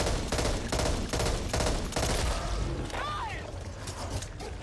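Rapid bursts of gunfire in the zombie shooter Back 4 Blood, several volleys crackling in close succession with heavy low-end thumps, while a voice talks over the shooting.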